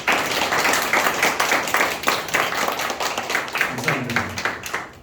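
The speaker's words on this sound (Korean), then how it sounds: "여러분 서로에게 박수 한번 하겠습니다." A group of participants applauding one another in a class session, a dense steady wash of hand clapping close by, lasting the whole stretch and tapering slightly at the end.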